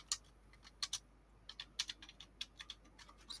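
Quick, crisp keystrokes on a computer keyboard in a quiet room, a loose irregular run of light clicks at close range with no voices.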